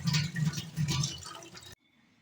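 Potatoes are washed in a basin of water, giving splashy, sloshing bursts in a few pulses before the sound stops abruptly, close by with no talk.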